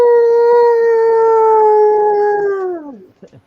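A voice imitates a big, long howl outdoors, holding one loud steady tone for nearly three seconds before it slides downward and breaks off.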